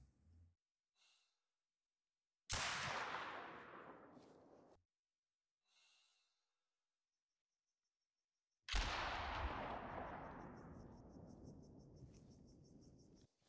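Two booming high-caliber rifle shots ring out in theHunter: Call of the Wild, each a loud crack trailing into a long rolling echo, separated by quiet pauses with faint breathing.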